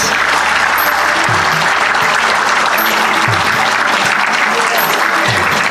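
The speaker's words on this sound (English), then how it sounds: "Please give them a big round of applause" A school audience applauds at an annual day prize distribution, with loud, continuous clapping from a large crowd and a few faint low thuds underneath.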